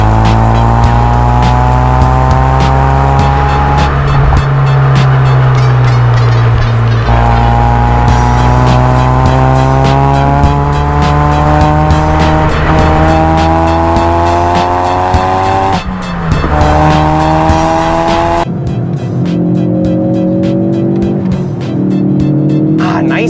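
A hot hatch accelerating hard through its gears, loud and close from inside the cabin, with the engine note rising in repeated sweeps and dropping at each shift, a faint voice now and then under the engine.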